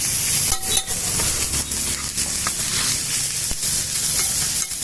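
Fried chicken biryani sizzles steadily in hot oil and gravy while being stirred, with a continuous close hiss and occasional scraping knocks from the spoon. No one speaks.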